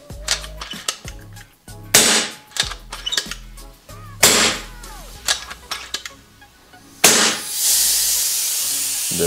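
An FX Maverick or Wildcat MK3 air rifle fitted with a tungsten power kit fires several sharp, close low-power shots, then its plenum vents a loud, sustained hiss of escaping air.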